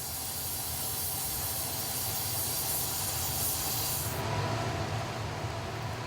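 A welding torch hisses steadily during flat-position welding on plate, a continuous loud rush with no pauses that drops slightly in brightness near the end, with no voices.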